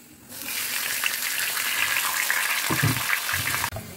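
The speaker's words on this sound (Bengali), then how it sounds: "চলো মাছটা ভেজে নিই আগে" Fish frying in a small wok gives a steady, close sizzle that runs unbroken for several seconds and cuts off sharply near the end.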